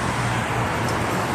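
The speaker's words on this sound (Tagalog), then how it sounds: "Dito tayo sa kalagitnaan ng highway." Steady roadside wash of cars on a highway, a continuous broadband roar with low rumble and no distinct pass-bys, close and fairly loud.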